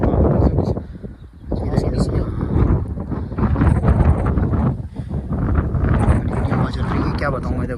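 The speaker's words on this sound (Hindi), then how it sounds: "हवा चल रही है" Wind gusts buffet the microphone outdoors by a roadside plot of land in the Himalayan region, a loud, rough roar that swells and dips for several seconds.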